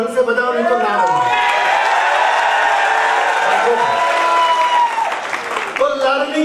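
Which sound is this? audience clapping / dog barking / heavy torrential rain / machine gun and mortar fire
audience clapping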